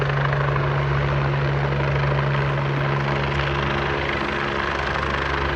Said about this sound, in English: Once inside the helicopter, the transport will take approximately 5 minutes to the trauma center.